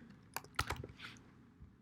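Fingers tap a computer keyboard in a brief, faint flurry of a few close clicks and clacks, with no voice over them.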